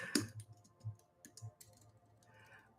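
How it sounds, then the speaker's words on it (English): Brief bursts of clicking keys from a computer keyboard, light and close, with irregular taps spread over a few seconds in a quiet room. "I'm going to type that for y'all."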